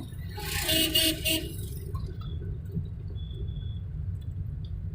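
A car horn honks in a few quick bursts at the start while pulling away in second gear, then fades to a low, steady engine rumble.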